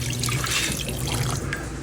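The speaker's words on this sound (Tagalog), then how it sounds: "Maglalagay na nga pala ako ng tubig." Water poured into a cooking pot during home cooking with beef parts, a steady splashing, trickling flow heard close up and continuous for a couple of seconds.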